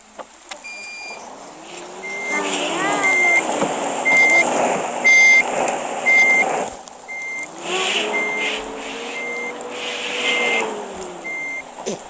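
A bus sounds a repeating series of short, evenly spaced reversing beeps over the low rumble of its engine, which rises and falls as it maneuvers nearby.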